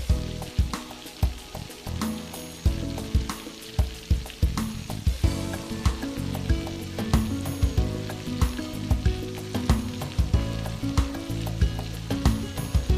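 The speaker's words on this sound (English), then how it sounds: "remove the frog legs from the frying pan" Steady crackling sizzle of food frying in a pan, with repeated clinks and scrapes of a utensil stirring over background music; no talking.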